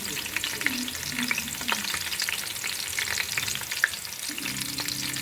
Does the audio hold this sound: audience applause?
no